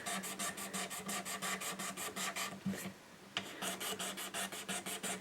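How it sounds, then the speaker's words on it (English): A sharp razor blade scrapes grime from the fingerboard of a Taylor 314 acoustic guitar in steady, rhythmic rasping strokes, close and alone, with a short pause partway through. "if I just take a real sharp razor blade and work my way down the board, it takes off any of that grime"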